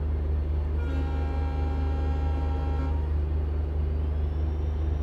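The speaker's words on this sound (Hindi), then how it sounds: "आप लोग हॉर्न साउंड सुन सकते हैं।" A train horn sounds one sustained blast lasting about two seconds over the constant low rumble of a moving train at Ludhiana station.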